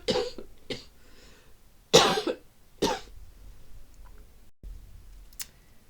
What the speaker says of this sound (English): my cough's come back